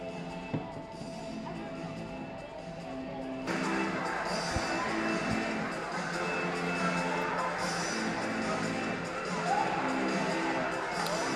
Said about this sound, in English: Good crowd here in King Arena